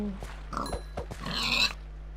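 A pig grunts and oinks softly in a survival video game, a few short grunts heard faintly over quiet game ambience.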